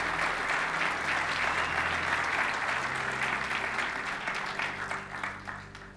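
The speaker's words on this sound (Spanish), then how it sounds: "De nuevo, démosle palmas al Señor" A church congregation applauds in a dense, loud, sustained wave of clapping that gradually thins and fades toward the end.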